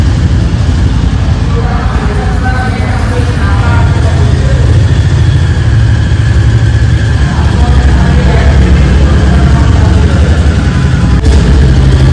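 A new motorcycle's engine runs at idle close by, a loud steady low rumble throughout with slight variations, and voices faintly in the background.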